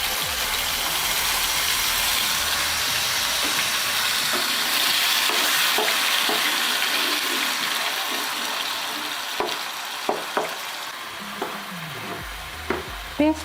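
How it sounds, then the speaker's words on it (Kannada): Ground onion and tomato paste sizzles loudly in six to seven spoons of hot oil for a chicken fry, under a constant crackle, with a few clinks from stirring near the end. "ಇದಕ್ಕೆ ನಾನು ಆಗಲೇ ರುಬ್ಬಿಟ್ಕೊಂಡಿರುವಂಥ ಈರುಳ್ಳಿ ಹಾಗೂ ಟೊಮೊಟೊವಿನ ಪೇಸ್ಟನ್ನು ಹಾಕ್ತೀನಿ."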